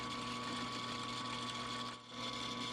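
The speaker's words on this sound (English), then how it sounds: "Swap out the hole saw for the end mill and clamp the vise to the table so that it doesn't move around. Begin milling out the material inside the circle." An end mill cuts out material from a workpiece clamped in a vise on the machine table, giving a steady, even mechanical whine with a brief dip near the end and no speech.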